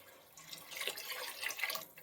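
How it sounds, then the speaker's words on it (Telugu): Water poured into a pot of tamarind fish curry, a faint, short splashing pour that swells and fades over about two seconds, with no voices. "వాటర్ వేసుకోవాలి."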